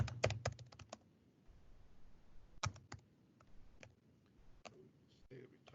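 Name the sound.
typing on a computer keyboard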